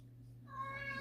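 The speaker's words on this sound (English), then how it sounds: "sorry about my cat" A pet cat gives one drawn-out, rising meow close by while playing with a toy, over a steady low indoor hum.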